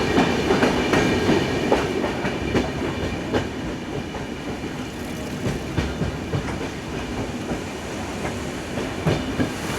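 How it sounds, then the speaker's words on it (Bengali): A passenger express train rolls through a long tunnel on a rainy hillside line toward Goa, a loud enclosed roar with steady clickety-clack of wheels over rail joints and no voices. "বৃষ্টির টানেলের ভেতর দিয়ে যখন ট্রেন যাচ্ছে"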